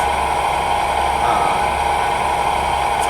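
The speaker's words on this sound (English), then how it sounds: "I had the engine going, but it wasn't fast idle, so it wasn't loud like this" A bus engine runs at fast idle, a steady, loud, continuous drone with a low rumble and a strong mid-range hum that holds level throughout, with no talking.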